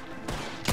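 Two sharp, close gunshots ring out in a Red Dead Redemption 2 shootout at the Del Lobo gang hideout in Gaptooth Breach, each a loud single crack, with the second coming about half a second after the first.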